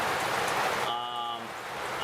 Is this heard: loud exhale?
no